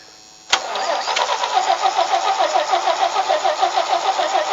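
Vintage Toro tractor engine kicks over after a sharp click and cranks steadily with a rhythmic, laboring chug, loud and close, straining to start but not catching.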